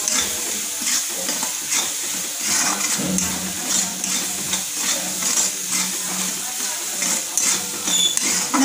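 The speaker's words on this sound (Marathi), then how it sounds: "मसाला छान आपल्याला तळून घ्यायचा आहे।" Spice masala for dry prawn bhaji sizzles in a pan as it is stirred, with a steady frying hiss and rhythmic scraping strokes of a spoon recurring throughout, close and without talk.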